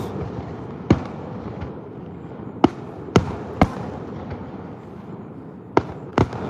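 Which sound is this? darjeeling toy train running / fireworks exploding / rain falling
fireworks exploding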